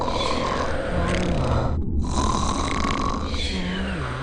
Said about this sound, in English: It's a great night for snores.